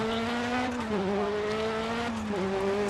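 Volkswagen Polo rally car in the racing game Dirt Rally, its engine droning loudly and steadily with pitch dipping and rising as gears and throttle change, close and continuous throughout.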